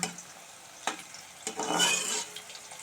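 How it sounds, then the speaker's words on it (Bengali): Onions frying in a pan for a spicy dried-fish curry, a soft sizzle with a few sharp scrapes and stirs of a spoon against the pan, close and without talk. "পেঁয়াজটা লাল করে ভেজে নেব"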